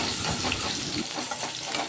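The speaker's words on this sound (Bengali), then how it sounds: "পেঁয়াজগুলো লাল লাল করে ভাজা হয়ে গেলে শাকের আনাজগুলো দিয়ে দেবো।" Onions and dried red chillies fry in hot oil for a prawn and Malabar spinach dish, a close, continuous sizzle with crackling spatters and the scrape of stirring.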